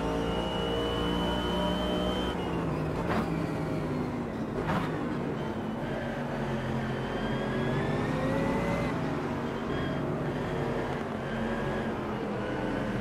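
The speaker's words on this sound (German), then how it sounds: "oh, man hört den BMW. Diese Downshift-Platzer, nenne ich sie mal." A BMW M6 GT3 racing at Long Beach in Automobilista 2 drones close and continuous, with engine pitch dropping through downshifts and a few brief pops and bangs.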